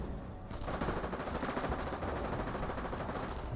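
An MG42 machine gun rattling in rapid continuous bursts in the World War II strategy game Company of Heroes, a dense unbroken stream of fire that stays loud and close throughout.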